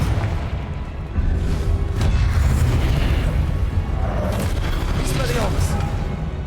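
Confringo fire spell blasts in Hogwarts Legacy, a steady rumbling, crackling barrage of booms and pops lasting several seconds, with voices talking over it.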